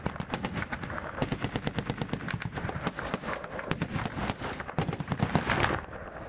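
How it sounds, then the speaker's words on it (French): Gunfire rattles in fast, regular bursts as bullets strike the ground beside soldiers running under fire with heavy packs, with sharp cracks repeating steadily and loud, with no voices. "Les balles tapent sous leurs pieds."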